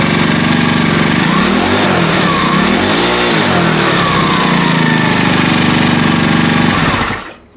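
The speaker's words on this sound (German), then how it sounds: "Jetzt starten wir das Ding nochmal mit Auspuff." A small scooter engine runs loud and steady through its exhaust with a rough, buzzing note, revving slightly before cutting off abruptly at the end.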